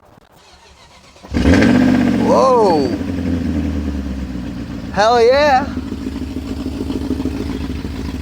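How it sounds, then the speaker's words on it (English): A BMW E39 540 with the M62 V8 is jump-started: the starter cranks briefly, then the engine catches and settles into a rough idle, with a revving blip midway as people exclaim over it. "Let's see if this pig fires up."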